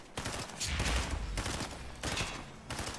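Rapid video game gunfire, dense bursts of automatic shots in several loud volleys close up, with no speech over them.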